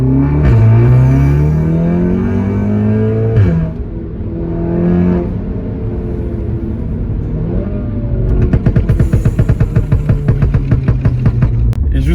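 An Audi S3 with a stage 2 tune and Milltek exhaust downshifts in comfort mode, the engine note swooping up and down in pitch, then settling into a steady drone with rapid popping crackles toward the end.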